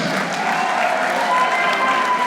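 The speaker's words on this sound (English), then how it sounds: "a huge ovation from this crowd here in Yonkers" Sustained applause from an arena crowd at a professional wrestling show in Yonkers, a dense, steady wash of clapping with light cheering mixed in, holding at an even level throughout.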